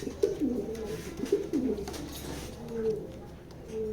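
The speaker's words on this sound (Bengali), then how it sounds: "এটা আমার সবচেয়ে প্রিয় কবুতর" A black racer pigeon coos repeatedly, soft low throaty rolls close by, with brief pauses between phrases and faint background hum.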